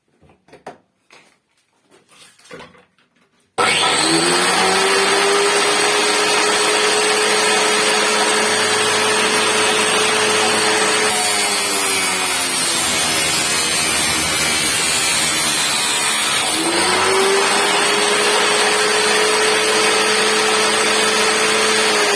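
Homemade 2 kW chain-sharpening machine running at constant speed: a few seconds of light handling noise, then a loud, steady whining motor hum that holds throughout, dipping slightly in tone for a stretch midway.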